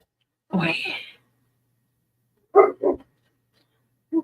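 A grumpy dog lets out a drawn-out growling bark, then two short quick barks and another brief bark, close and fairly loud against silence.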